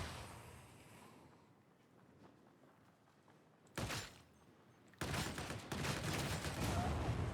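Flamer weapons in Warhammer 40K: Darktide roar in sustained bursts: a fading hiss, a short blast near four seconds, then a loud continuous gush from five seconds onward.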